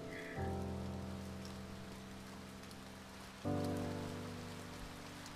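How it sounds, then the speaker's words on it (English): Rain falls steadily in the video game A Bird Story, a soft continuous patter held at an even level for the whole stretch, layered under sustained tonal background music that swells again partway through. "Oh, it is raining."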